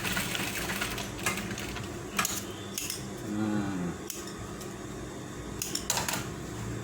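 A sewing machine runs steadily, stitching the crotch seam of a pair of trousers, with a continuous mechanical whir broken by faint clicks and the rattle of metal parts; close by, with no speech.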